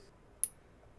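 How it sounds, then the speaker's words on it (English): A single short click from an induction heater cooling down, a brief sharp tick alone in near silence. "Make sure I hear the cool down clicks."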